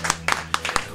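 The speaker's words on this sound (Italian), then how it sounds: "Un applauso, grazie, Valentina Gumina" A handful of sharp, separate handclaps at a book presentation, about four distinct claps in a second with a faint steady hum underneath.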